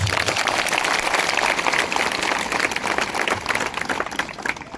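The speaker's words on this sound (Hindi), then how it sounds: "अपने आप के लिए एक बार ताली बजा दो।" A crowd of party polling-booth workers at a political gathering in Ashoknagar claps in a dense, loud, continuous burst that holds for several seconds and eases slightly toward the end.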